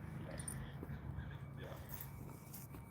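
A dog makes soft whimpering, snuffling noises nearby among footsteps and movement, with faint background voices and bustle.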